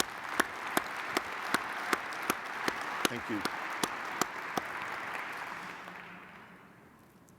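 An audience at an AFCEA event gives a long round of applause, with steady clapping and a few loud, evenly spaced claps in front that fade toward the end. A voice briefly thanks the crowd.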